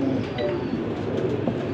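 Pigeons kept as flying birds for sale in Lahore coo softly and steadily through a continuous murmur of bird sounds, fairly close, with no talk.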